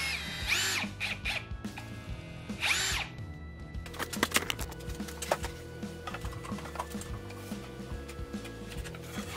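Ryobi One Plus cordless drill boring dowel holes into the edge of wood pieces through a dowel jig, a loud close sustained whine with sharp clicks and bursts, preceded by two short drill spurts.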